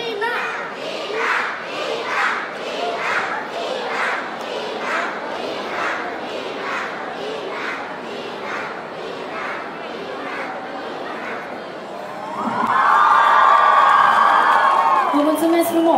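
Concert crowd at an indoor mall arena chanting rhythmically together in a steady repeated shout, then swelling into loud cheering and whooping as the singer is welcomed, with many children's voices in the mix.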